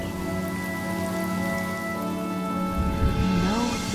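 Steady rain falling in the Honkai: Star Rail game world, a dense even hiss under sustained tonal music, with a low whooshing swell near the end.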